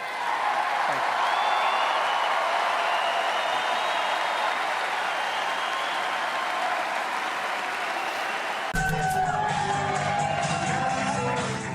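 Crowd cheering and applauding at a Trump Pride campaign event, a loud, continuous roar of clapping and shouts for about nine seconds before the sound cuts abruptly to something else.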